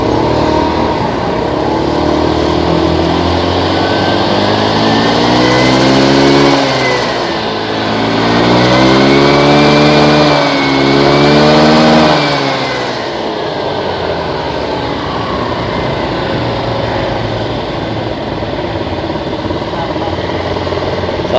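A Kymco Super 8 scooter engine with a fault, bogging down under throttle, revs repeatedly in rising and falling sweeps, loud and close, then settles back to a steady idle.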